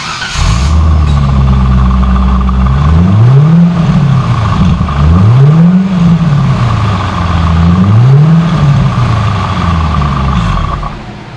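A 5.7-liter V8 engine in a 2002 Chevrolet Corvette idles loudly up close, then is revved several times in rising and falling sweeps before settling back to a rumble.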